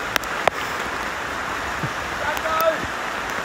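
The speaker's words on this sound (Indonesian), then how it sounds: "Kami terpaksa menempuh hujan untuk balik." Rain falling in a forest as a steady, close wash of hiss, broken by a few sharp drip or tap transients.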